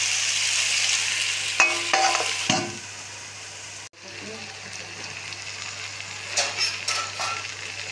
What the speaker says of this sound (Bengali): এখন কষতে থাকুক